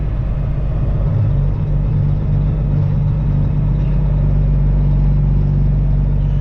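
Custom Peterbilt truck with straight pipes and an 18-speed transmission downshifting, heard from inside the cab as a loud, steady low engine rumble that continues throughout without a clear rev break.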